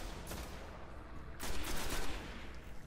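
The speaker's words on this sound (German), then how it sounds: "Ein dicker Opa schießt wieder auf mich." Enemy gunfire in the shooter game Destiny, on a PS4 mission at the Shrine of Oryx: dense rapid bursts of shots, loud and close, surging into a heavier volley midway.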